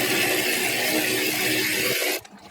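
Continuous whirring of a power tool unscrewing a part during a 2005-2019 Jeep Grand Cherokee water pump replacement, running steadily up close before stopping abruptly.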